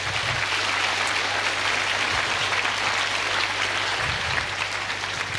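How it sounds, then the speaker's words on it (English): An audience applauds for students in a steady, continuous wash of clapping that stays even and moderately loud throughout, with a low hum underneath. "Can you clap for all the smart students around?"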